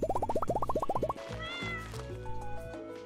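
Repeated cat meows from Stardew Valley, a quick string of about a dozen short, close, loud mews in the first second, then game music and chimes with no voices.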